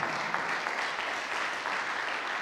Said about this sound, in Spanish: ¿Cuántos pueden aplaudir a Dios?